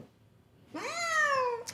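A cat at a veterinary clinic gives one long, clear meow that rises and then holds steady, loud and close, with no talk over it.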